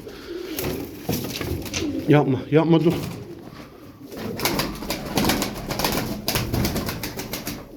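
Pigeons coo in soft repeated throaty bursts nearby, with someone speaking briefly over them and some faint wing flutter.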